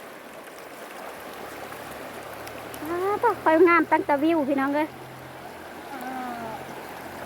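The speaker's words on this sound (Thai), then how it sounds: "น้ำไหลคักกระเลย" Water flows with a steady, close, hissing rush throughout, and a voice talks over it briefly in the middle.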